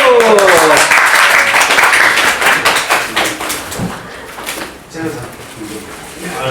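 A crowd claps loudly at a Gunpla fan club offline meetup, the applause thinning into scattered claps as it fades, with voices talking over it near the end.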